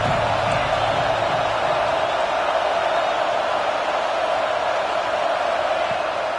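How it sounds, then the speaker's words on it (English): A big college football stadium crowd at UCLA versus Auburn, a steady, dense roar of many voices that stays level the whole time with no single sound standing out. "This crowd bringing the energy and noise early."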